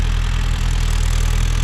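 Mahindra Yuvo Tech Plus 585 DI 4WD tractor with its diesel engine running close by, a loud, steady low thumping idle with even pulses and no voices.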